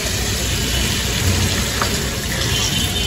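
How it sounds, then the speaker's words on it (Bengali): Water pours steadily into a pot of browned, fried-down curry made with taro, a continuous rushing gush that fills the whole moment without pause and with no talk. "এখন পরিমাণ মতো জল দিয়ে দিবি"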